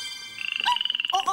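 A frog croaking in a fast, rhythmic pulsing trill, loud and close, with other higher chirping or whistling tones layered over it.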